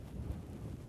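Wind blowing across open country in Wyoming while fishing, a steady low rumble of gusts buffeting the microphone, loud and close with no other sounds.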